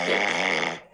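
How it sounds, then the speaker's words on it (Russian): A man's snoring played back from a recording, one long rasping, rattly inhale that cuts off abruptly near the end. "Знаете, как он храпел?"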